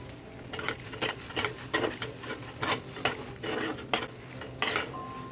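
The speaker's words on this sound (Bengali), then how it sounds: "হালকা করে ভেজে নেব।" Pointed gourd is lightly fried with mustard in a pan while a utensil stirs in a steady rhythm of scraping strokes over a soft, continuous sizzle.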